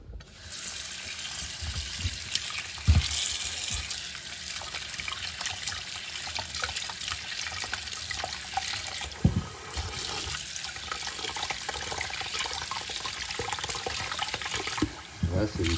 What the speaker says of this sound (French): maintenant on rince les topinambours.